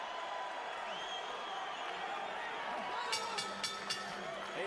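Crowd noise fills a boxing arena after a champion's fast left-hook flurry, a steady broad roar with a few sharp whistles or shouts rising near the end.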